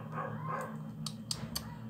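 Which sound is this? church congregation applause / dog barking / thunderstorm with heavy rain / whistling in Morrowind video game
dog barking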